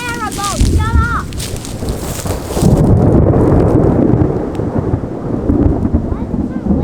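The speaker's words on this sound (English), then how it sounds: "Ooh, big thunder." Loud, deep rumbling thunder from an incoming storm rolls on for several seconds during light rain in the Port Macquarie and Kempsey bush, with a brief voice and some bird calls heard at the start.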